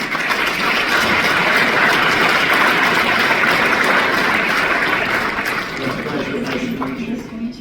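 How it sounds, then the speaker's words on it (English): Audience applause greets a guest on an Australian talk show, a dense, steady wash of clapping that fills the clip and thins slightly toward the end. "Give her a big round of applause."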